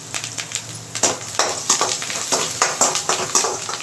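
Curry leaves sizzling in hot oil for tempering, with sharp crackling pops rising over a steady frying hiss, no voices.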